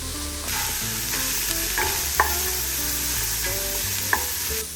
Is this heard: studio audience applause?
no